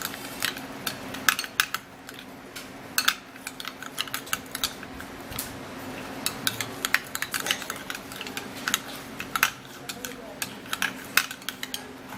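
Teeth-whitening paste gets stirred in a small dish, the utensil clicking and scraping against it in quick, irregular taps close by.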